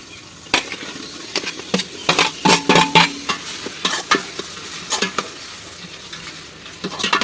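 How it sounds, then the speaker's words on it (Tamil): Tomatoes added to mint and green chilies fry in a pan for chicken biryani, a constant sizzle overlaid by frequent sharp spoon scrapes and clinks as the mixture is stirred. "நல்லா கிளறி விட்டுக்கலாம்."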